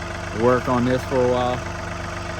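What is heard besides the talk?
tractor engine idling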